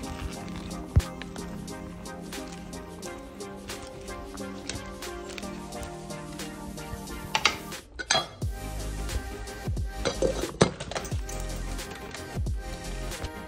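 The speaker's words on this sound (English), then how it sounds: "mix it with the hot soup, and it's done." Spoon stirring spinach into hot mussel soup in a pot, with continuous metallic scraping and clinking against the pot, close and fairly loud, with louder clattering bursts near the end and no talking.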